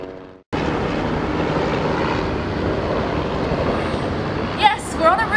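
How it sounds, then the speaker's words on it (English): Helicopter passing over a city rooftop in Sydney, a steady loud broadband rotor and engine roar that fills the scene from the start, with a brief louder flutter and voices near the end. "and now there's a helicopter."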